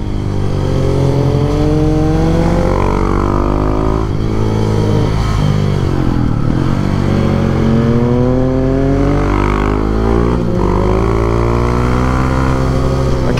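A Husqvarna 701 supermoto motorcycle engine revs hard and loud on a winding mountain road, rising and falling through gear changes with steady close-up engine roar throughout.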